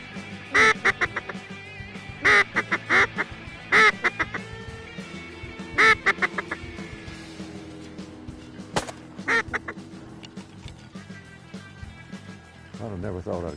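Loud nasal quacks during a duck hunt come in repeated rapid bursts of several calls each, separated by short gaps, with voices talking underneath.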